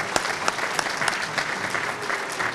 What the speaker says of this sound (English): for a big round of applause for all of you in this room